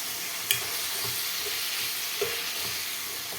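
Capsicum masala curry stirred in a pan over a steady sizzle, with two soft spoon scrapes against the metal, close and fairly quiet.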